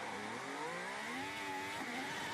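A Formula 1 Ferrari driven by Lewis Hamilton accelerates away in practice at Monza, its engine note rising steeply through the gears in a loud, continuous high-pitched scream, with no voices over it.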